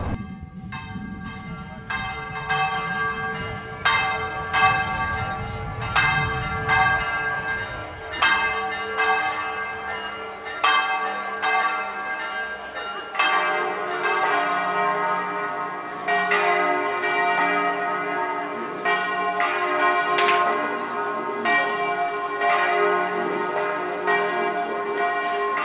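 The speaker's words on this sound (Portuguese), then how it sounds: "O sino, ele acaba sendo a voz da igreja, né?" Church bells in São João del Rei, Minas Gerais, ring alone for about 26 seconds, with rhythmic, resonant strikes layered over a sustained metallic hum and a low rumble fading out early on.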